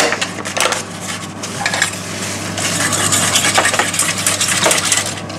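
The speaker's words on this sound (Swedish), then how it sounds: "Vispar ner eh, pulvret i där." Whisk clattering quickly against a pot as béarnaise sauce powder is stirred into water, a busy rhythmic scraping and tapping close up with no voices.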